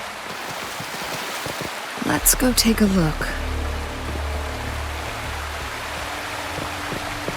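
Rushing video-game waterfall heard as steady broadband water noise throughout, with a sharp whooshing burst partway through and a low hum underneath, while a voice talks over it.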